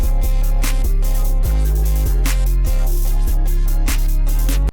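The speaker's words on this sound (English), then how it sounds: "I have just added this open hat because open hats are commonly used in rage beats" A rage beat with an open hi-hat newly layered in, playing loud and continuous with booming bass hits and steady sustained synth chords under a repeating hat pattern.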